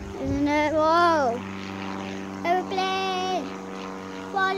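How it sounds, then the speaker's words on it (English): An airplane passing overhead gives a steady droning hum, mostly masked by a high, sliding voice that rises and falls over it in several drawn-out calls. "Airplane."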